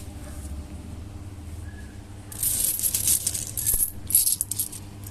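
Old 10 paisa coins of steel, aluminium and copper-nickel clink and jingle as a pile is handled, a burst of close metallic clatter that rises partway through over a low background hum.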